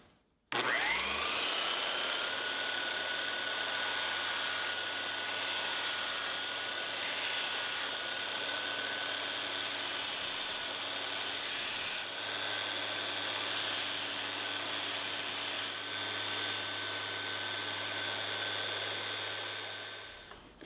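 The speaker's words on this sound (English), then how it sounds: "So I'm gonna start by grinding down about a 1/16 of an inch here and trying to shape the front of the knife." A belt sander grinds down the front of a steel knife blade. The close, loud, continuous abrasive whine holds for about twenty seconds, with brief surges of harsher rasping as the blade is pressed to the belt.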